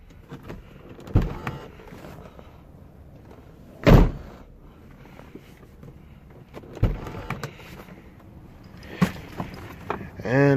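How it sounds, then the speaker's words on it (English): Car door on a 1991–95 Acura Legend coupe being shut after an interior door handle repair: several loud, sharp slams and thuds spaced across the clip, near and clear, with quieter rustling and handling noise between them. "Close the door."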